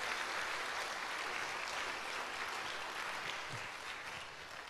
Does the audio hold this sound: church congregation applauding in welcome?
yes